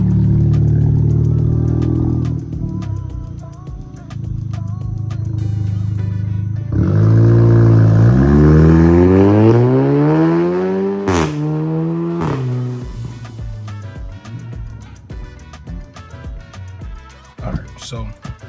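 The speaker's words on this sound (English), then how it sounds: "So let's get a full throttle lap going uphill." An Audi accelerates at full throttle uphill on a winding touge road, its loud exhaust rising through the gears with a sharp shift midway and rumbling over-run crackle as it eases, with someone talking in the opening seconds.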